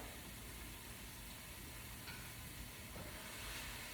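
Tofu and about two cups of mushrooms cook in a pan for a tofu scramble, giving a faint, steady sizzle that holds without a break and carries no voices.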